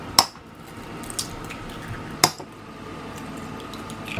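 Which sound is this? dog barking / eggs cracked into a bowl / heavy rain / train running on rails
eggs cracked into a bowl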